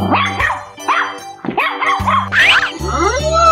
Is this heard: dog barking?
yes